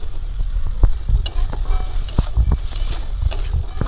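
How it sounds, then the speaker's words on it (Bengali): Fried mourala fish are tipped into spice paste in a village kitchen, giving a few loud knocks and scrapes of spatula on pan over a soft sizzle, the sharp clatters spaced irregularly. "এবার ভেজে রাখা মাছগুলো দিয়ে দেবো।"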